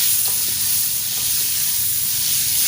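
Snails and eel fry in a hot pan with a dense, continuous sizzle and hiss, loud and close and running steadily throughout without any talk over it.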